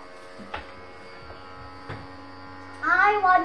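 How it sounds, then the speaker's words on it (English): A Henry vacuum cleaner fitted with a Bosch floor head runs with a steady electric hum, broken by a couple of soft bumps and a louder, rising whine near the end. "Let's try the Henry. Yeah, it really is the best hoover."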